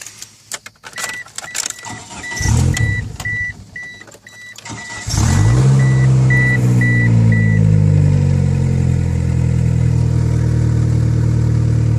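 A Mitsubishi Eclipse making almost 600 horsepower, with its exhaust removed for repair, cranks and starts after a run of beeps and clicks, then settles into a loud, raw, rumbling idle heard up close.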